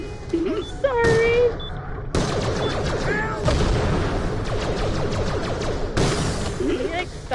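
Gunfire and explosive bangs in Borderlands: The Pre-Sequel, an SMG among them, coming in repeated loud bursts under a frequent excited voice.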